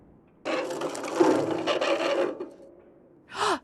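A screw being worked loose in the puzzle game Frequency Missing: a sustained gritty, rasping scrape with wooden creaks running about two seconds, then a short rising squeak after a pause.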